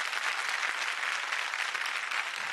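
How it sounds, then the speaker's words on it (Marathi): A loud, sustained round of applause from a studio audience at a Marathi music competition show fills the clip, dense and even from start to finish with no speech. "एकदा जोरदार टाळ्या गेल्या पाहिजेत."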